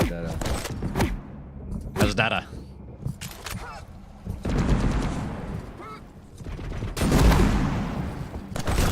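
Rapid weapon fire from Tri-Bolt and rocket launchers in an arena shooter game, a dense run of sharp repeated shots and blasts with loud bursts near the start and end, heard under ongoing commentary.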